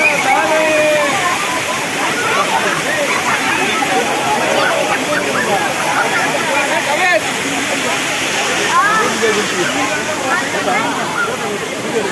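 A forest waterfall near Pulimedu village, Vellore, in hilly jungle, pours in a steady, loud rushing wash of water with sloshing and gurgling throughout, and someone talks over it.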